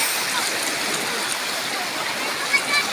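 Steady rushing water of a stream in Balingasag, Misamis Oriental, a continuous bright hiss like water flowing over rocks, with no voices.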